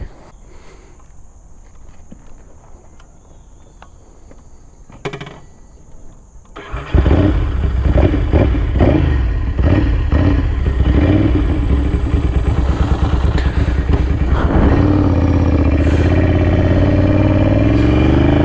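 A custom Ducati 750 Super Sport motorcycle sits quietly at first with faint clatter, then its engine starts and settles into a loud, close, throbbing run. The engine revs as the bike pulls away on a ride.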